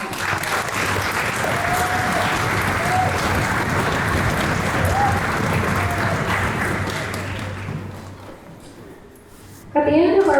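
Sustained audience applause at an honors orchestra concert, a dense crowd of hands clapping steadily for about eight seconds before fading out, followed by a brief burst of sound at the end.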